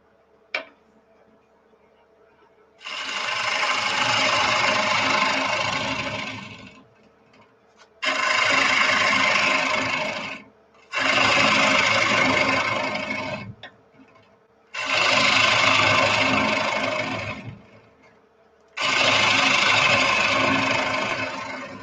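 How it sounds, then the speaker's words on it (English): Wood lathe running with vibration from an unlevel stand with one foot not fully screwed down, a loud close grinding rumble in five long bursts separated by short quiet pauses. "I need to level out my lathe. It's getting some vibration."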